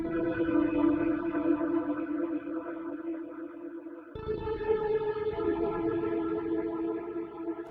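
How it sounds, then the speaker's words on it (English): A washed-out, reverberant synth-like tone of sampled reverb played on a sampler in Logic Pro, with sustained chorused harmonics, holding one pitch, then shifting to another midway. "So the reason why it sounds washed out is because it is just reverb."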